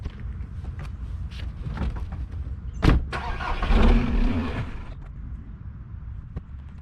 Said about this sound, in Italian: adesso sposto la macchina, la prima cosa che impedisce un po' qua il lavoro